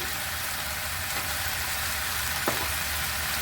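Spice masala of cumin, coriander and chili powder with salt and turmeric sizzles steadily in a pan for banana blossom curry, a constant close hiss with one brief utensil tap.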